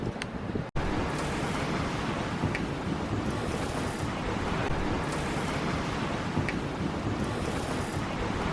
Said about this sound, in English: We went head into wind and we're bouncing along. Yeah. And the wind's picked up.